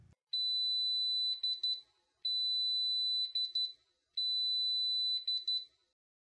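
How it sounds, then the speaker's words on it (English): Taylor TTi colorimeter timer sounding three loud, steady electronic beeps, each about two seconds long with a short fluttering end and brief gaps between, heard alone in a quiet room. "When the timer beeps, the instrument will read the sample and the result will be displayed."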